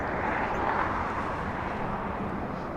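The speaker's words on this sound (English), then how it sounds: "Virgin Atlantic, a 787 Dreamliner over Santa Monica" Virgin Atlantic Boeing 787 Dreamliner flying over Santa Monica near LAX, a steady broad jet roar heard from a distance, constant and unbroken with no talk.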